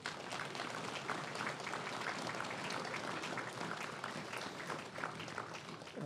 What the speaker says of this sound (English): Please, a round of applause to the LaCamera family.